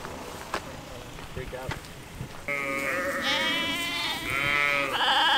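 A herd of sheep bleats in a field near a castle, a few distant cries at first, then loud overlapping wavering bleats from several animals close by, with some voices talking.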